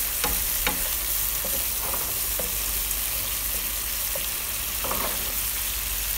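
Malaysian nasi goreng ayam, fried rice with chicken, is stirred in a hot pan. A loud, constant sizzle fills the sound, broken by scattered scraping and clinking strokes from the utensil.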